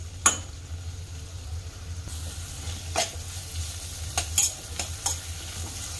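Onions frying in a kadai for dhaba-style matar paneer: a low oily sizzle under repeated spatula scrapes and stirs against the pan, close by with no voices.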